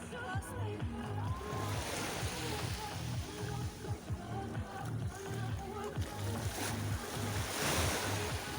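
Sea waves wash onto the shore at Paralia at 6 a.m., a steady rolling surf with wind rumble close to the microphone, and voices can be heard faintly in places.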